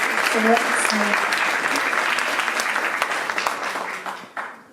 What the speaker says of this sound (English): An applause, please, for this.